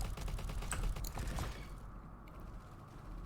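An MP40 submachine gun fired in the Roblox game Bad Business, a rapid burst of close clattering shots with mechanical clicks that stops midway, leaving quieter background ambience.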